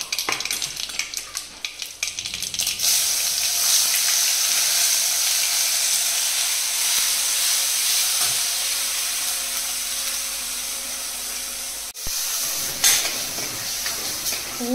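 Spice paste for a karela (bitter gourd) pickle sautéing in hot oil after mustard seeds and asafoetida, a steady close sizzle with stirring scrapes throughout, a brief pause near the end.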